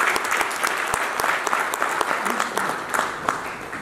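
A round of applause rises from attendees at an air cargo industry innovation conference, sustained dense clapping with sharp individual claps popping through, close and loud.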